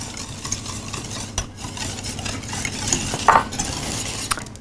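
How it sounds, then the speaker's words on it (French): A sugar and pectin mixture being stirred in a saucepan for a matcha-raspberry yule log, with close scraping and swishing strokes, a soft sizzle underneath and a brief utensil clink. "on va ajouter notre mélange sucre-pectine dans notre casserole,"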